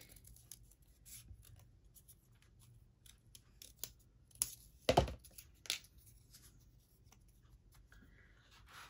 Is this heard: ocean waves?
no